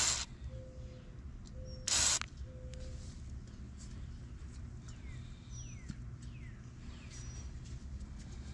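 A spray can sends one short, strong hiss into a Honda lawn mower outdoors, with a fainter spurt just before it. Birds call faintly in the background.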